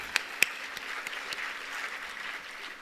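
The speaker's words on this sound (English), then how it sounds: "Can we have a huge round of applause for all the students?" Applause from an audience for students at a university event, soft and distant-sounding, with a couple of sharp nearer claps standing out early before the sound settles into a faint, even patter.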